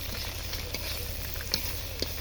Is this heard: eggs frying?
yes